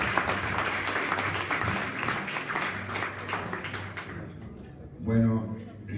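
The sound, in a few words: audience applause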